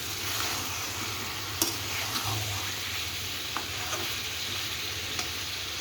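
Potatoes and mutton curry sizzle steadily in a pot, a broad hissing fry with occasional soft clinks and scrapes as the mixture is stirred, no talking.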